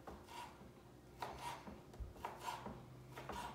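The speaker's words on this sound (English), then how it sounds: "And chop some of that up as well." A knife chops Canadian bacon on a board in a series of faint, soft strokes with rubbing scrapes between them, close by but quiet against low background noise.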